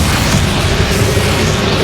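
An explosive spell blast in the video game Hogwarts Legacy during a final battle, a loud, dense, continuous booming rumble filling the short moment.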